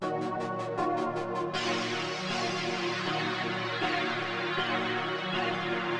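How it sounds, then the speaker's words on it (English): A simple, dark synth top melody played on the Pigments synthesizer, with sustained tonal layers and pulsing notes at steady moderate loudness and no voices. "I laid down this super simple dark top melody"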